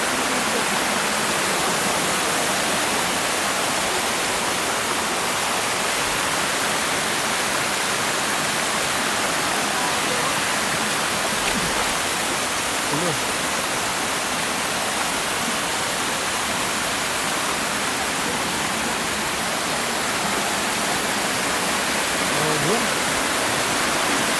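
Steady roar of the hidden Barriowin waterfall in upper Marikina, Philippines, a dense continuous rush of falling water that stays loud and unbroken throughout.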